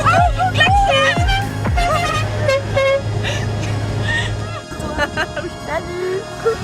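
Car horns toot several times on a road in the Périgord during the 4L Trophy 2023 rally. The short, bright honks sit over road noise while people talk and laugh nearby.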